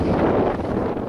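Wind gusts across an open campsite while a tent is pitched on a bikepacking trip in Macedonia, a steady, close, full-bodied roar buffeting the microphone throughout with no voices.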